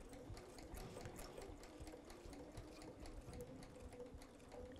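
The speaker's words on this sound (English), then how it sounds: "I'm going to watch the corner and you'll just sew right to it." A sewing machine stitches a June Tailor shopper tote in one steady, continuous whir with fine rapid needle pulses. It sounds close but faint, with no talking.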